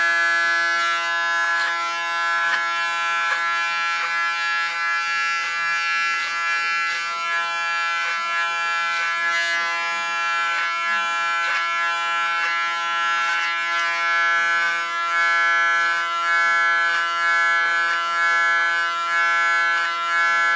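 Electric hair clipper with aluminium foil on it buzzes steadily and loudly during a short haircut, a constant high-pitched motor whine with faint rhythmic ticks of cutting, no talking.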